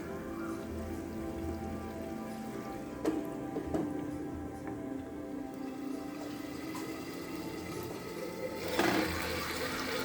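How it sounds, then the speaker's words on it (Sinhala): Chicken and potato curry simmers in a covered pot with a faint, steady bubbling hiss, broken by a couple of soft ticks and a slightly louder burble near the end. "දැන් චිකන් සහ අල තැම්බීගෙන එනවා"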